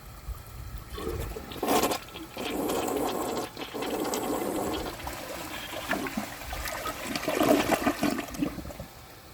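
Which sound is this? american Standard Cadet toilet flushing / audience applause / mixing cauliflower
american Standard Cadet toilet flushing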